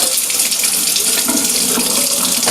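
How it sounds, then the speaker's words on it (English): Water gushes steadily from a kitchen tap that feeds a Kangen water ionizer machine, a close, continuous hissing splash with no pauses. "So I'm going to turn on the tap"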